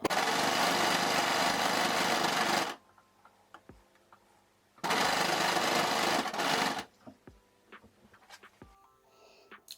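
A sewing machine stitches elastic onto a dress strap in two steady bursts of about two to three seconds each, separated by quiet pauses with light clicks as the fabric is handled.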